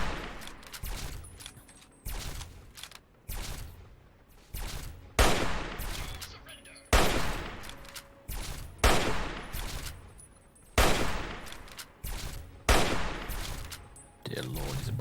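Gunfire in Fallout 3 comes in loud, separate bursts of shots about every second or two, each with a sharp crack that fades into a decaying tail, with faint game ambience between them.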